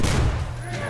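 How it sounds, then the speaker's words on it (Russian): A loud blast in the Metro Exodus video game, a dense booming burst right at the start that decays into a rumbling tail over about a second. "Что-то взорвалось."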